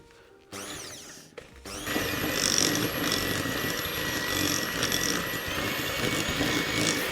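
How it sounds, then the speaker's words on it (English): An electric mixer creams butter and sugar, starting with a short whir and stop, then running as a steady loud motor whine with a grinding, rattling texture that holds to the end. "then you can turn your mixer speed up to get it completely"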